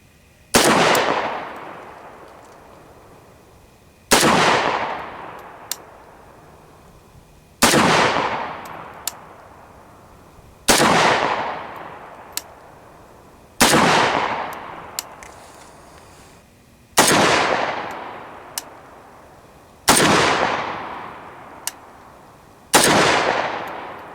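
A C39 V2 AK-47 rifle fires single shots at a steady pace of roughly one every three seconds outdoors, each a loud sharp crack with a long rolling echo that trails off before the next.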